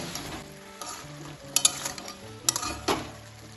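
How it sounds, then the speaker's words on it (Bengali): Eggplant, bitter gourd and spices such as cumin, coriander and salt sautéed in oil for shukto, with close, steady sizzling and a few sharp spoon-on-pan clinks scattered through. "সব কিছু ভালোভাবে তেলের সাথে কষিয়ে নেব"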